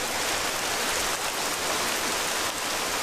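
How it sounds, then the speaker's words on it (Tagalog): Heavy rain pours down in a dense, unbroken roar, loud and close, with no voices. "Ang lakas ng ulan!"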